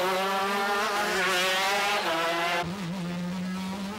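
Racing karts at the 1990 Peel Kart GP on a street course brake hard and swing right onto the Peel Promenade, a loud close high-revving engine whine that dips and wavers through the braking before settling into a steadier drone.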